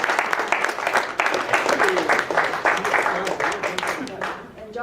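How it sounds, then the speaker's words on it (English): An audience at a city anniversary celebration claps in a broad, steady wash of applause, close and full, while a voice talks over it. "Let's give them a round of applause."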